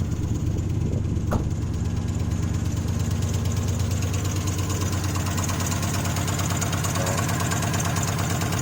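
An LS V8 swapped into a GM B-Body car, which has a fueling issue, runs at a steady idle, loud and close, with an even rumbling throb throughout and no talk.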